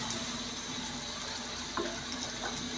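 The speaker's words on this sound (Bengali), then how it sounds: "আমি মাখা মাখা রান্না করব, তার জন্য অল্প একটু জল দিয়ে দিব।" A little water is poured into a pan of mola fish curry cooked with raw tomato, a faint, short trickle and splash under a low kitchen hum.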